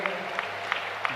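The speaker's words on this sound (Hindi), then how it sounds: "1 मिनट तक जोरदार ताली बजा करके" An audience at a mass wedding festival applauds in a dense, steady clatter of many hands, with sharper claps standing out at a regular beat, heard from a moderate distance.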